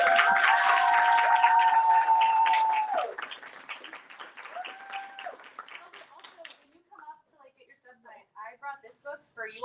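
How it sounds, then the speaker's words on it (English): Audience applause at a book release celebration, a loud wash of clapping with cheering voices at the start that fades, followed by speech from the host. "One more round of applause."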